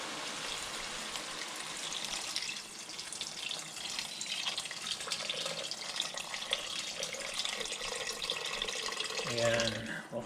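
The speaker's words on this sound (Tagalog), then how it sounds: "Tapos lagyan na natin ng tubig." Water pours from a tap into a pot of chicken sotanghon soup, a steady splashing rush that continues for several seconds, then changes pitch near the end as the pot fills.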